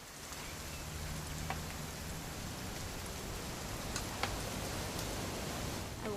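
Rain in the video game What Remains of Edith Finch, a steady, even hiss of falling drops pattering on surfaces, continuous and fairly soft throughout, with no voices over it.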